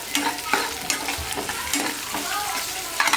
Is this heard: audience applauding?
no